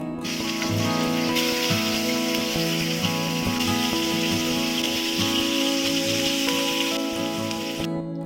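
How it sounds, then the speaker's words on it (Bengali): Rohu fish pieces fry in hot mustard oil, giving a steady, loud, dense sizzle that runs unbroken for the whole stretch, with faint tonal sounds in the background. "তেল ভালো করে গরম হয়ে গেলে মাছগুলি সব একটা একটা করে ছেড়ে দিচ্ছি"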